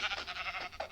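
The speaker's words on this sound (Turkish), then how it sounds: "Koyun işte o." A sheep bleats in the Minecraft video game, one short quavering bleat with a rapid pulsing wobble, loud and close, heard alone without talking.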